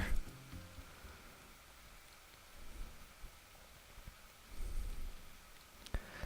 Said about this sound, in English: Unlike the sound of the rain hitting the ground, the sound of it hitting the umbrella was surprisingly faint.